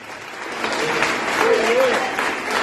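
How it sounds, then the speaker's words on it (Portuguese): A church congregation at a Sunday service breaks into applause, a dense sustained clapping that swells under a voice. "levante um aplauso ao Senhor."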